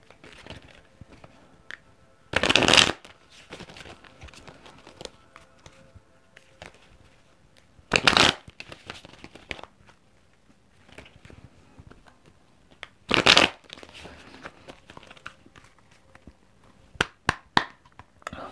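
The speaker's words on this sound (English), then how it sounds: "Let's shuffle." Tarot cards shuffled in a few short, sharp riffling bursts spaced several seconds apart, close and fairly loud against a quiet room background, with light handling rustles between.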